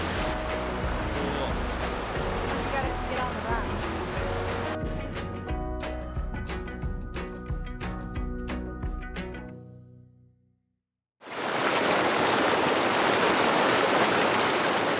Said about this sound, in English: the sound of the river was awesome